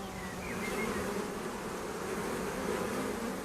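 Bees buzzing steadily around hives kept by monks on Mount Athos, a dense, continuous hum of many insects filling the whole stretch, fairly close and even in loudness, with no voices.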